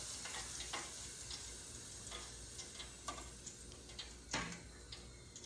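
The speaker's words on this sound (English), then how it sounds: "I'm gonna let those fry for about 3 to 4 minutes" Homemade french fries frying in hot oil, a faint, steady hiss and crackle of bubbling with a few sharper pops and ticks scattered through it, with no voices.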